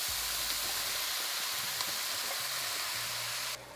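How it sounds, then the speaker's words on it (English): Onion sautés in a pan, giving a loud, continuous hissing sizzle, close up and steady, which drops slightly near the end. "So you're going to saute your onion till it's a golden brown color"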